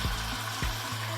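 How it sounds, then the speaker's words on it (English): New York strip and bison steaks sizzle in oil in a pan aboard a sailboat, a steady close hiss of frying with a low hum and a few soft clunks underneath, no talking. "And then finally the bison right there. That's sizzling up nice."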